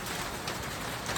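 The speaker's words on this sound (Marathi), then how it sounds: "बघता बघता बघ गारांचा सडाच पडला" Hail and rain pour down outdoors during a summer storm, a steady dense hiss of falling stones and drops with scattered sharper patters, close and continuous.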